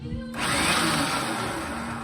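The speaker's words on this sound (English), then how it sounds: "this is an early, called Sher, S-H-E-R. Oh, electric drill." An early Sher electric drill starts up abruptly and then runs steadily with a loud, close, whirring motor whine that holds for the rest of the stretch with no talking.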